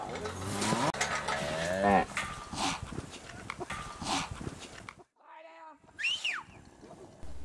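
Cattle low loudly and close by while Border Collies work the herd, several drawn-out moos overlapping, then a short pause followed by fainter calls.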